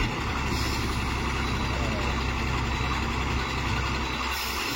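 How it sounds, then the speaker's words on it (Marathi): A truck with its front tyre stuck in mud runs its engine in a steady loud rumble, with faint hiss and background talk throughout. "परत एकदा एक गाडी फसली बघा मित्रांनो."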